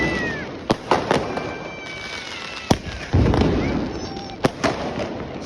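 Diwali sky shot fireworks burst overhead in a string of sharp cracks and pops, several in quick pairs, each echoing over a constant outdoor background.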